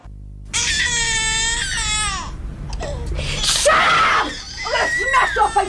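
A young child screams and cries in a public service announcement, loud, high-pitched wails rising and breaking in repeated bursts, with sobbing and gasping between them.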